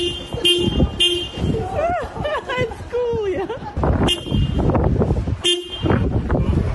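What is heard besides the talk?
dogs honking a car horn with their paws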